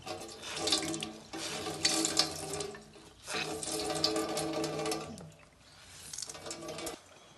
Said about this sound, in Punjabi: ਹੁਣ ਆਪਾਂ ਇਹਦਾ ਪਾਣੀ ਨਿਚੋੜ ਦਿਆਂਗੇ